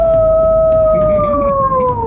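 A person imitates a wolf howling at the moon with one loud, close, sustained tone that glides slowly downward in pitch, heard alone.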